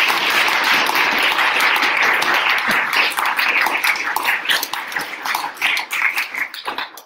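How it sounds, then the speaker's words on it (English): Audience applause after a talk at a university club gathering, dense steady clapping close by that thins out and becomes more scattered toward the end. "Give a big round of applause."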